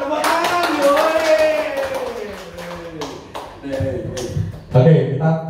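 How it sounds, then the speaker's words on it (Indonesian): A small group of people clap hands in a classroom or workshop setting, a brief burst of uneven claps mixed with voices talking and calling out over them. "tepuk tangan"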